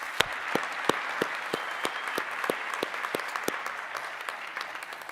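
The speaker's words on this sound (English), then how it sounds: "So give them a round of applause if you would." Sparse, scattered hand claps from a small audience at a nursing commencement ceremony, a dozen or so distinct claps spaced irregularly and fading to a thin patter, moderately quiet.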